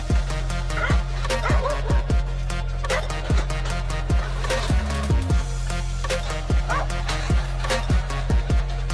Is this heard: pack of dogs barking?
yes